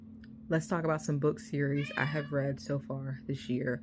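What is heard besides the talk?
cat meowing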